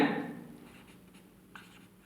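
A pen scratching across paper while a maths solution is worked out, a brief firm stroke at the start followed by faint scratching that trails off, quiet and close.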